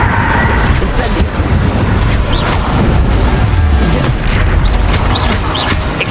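Incendio fire spell flaring during a heated Hogwarts Legacy battle, heavy booms and crashing impacts rolling one after another beneath a constant dense roar.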